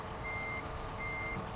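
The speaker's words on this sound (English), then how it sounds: "You need some time to start the truck to move." A truck in American Truck Simulator starts moving in Los Angeles traffic, with a steady engine rumble and two evenly spaced electronic beeps, and no talking.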